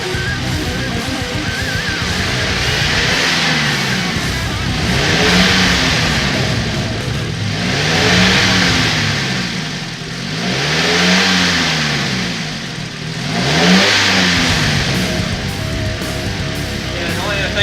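A high-compression turbocharged Nissan 240SX engine started up and revved repeatedly, loud close rising and falling blips every few seconds over a rough, lumpy idle.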